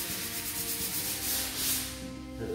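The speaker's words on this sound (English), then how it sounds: "I just want to show you sort of how you sand these" Steady, rhythmic scratchy rubbing of hand sanding on dried plaster over a drywall patch, close up and continuous with no talking.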